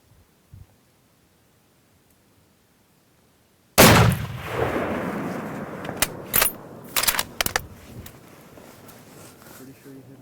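A hunting rifle fires during a Coues deer hunt in Arizona: after near silence comes a single sharp, loud shot with a rolling, echoing tail, followed by scattered rustles and knocks close by.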